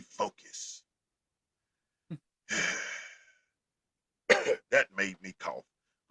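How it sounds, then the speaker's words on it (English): A few short, dry coughs and throat-clearing bursts from a man on a football podcast, spaced over several seconds in a quiet room with brief pauses between them. "That made me cough."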